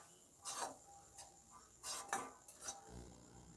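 Spoon scraping and stirring gram flour (besan) being dry-roasted in a metal pan, several short rubbing scrapes and clinks at uneven intervals, close and fairly quiet.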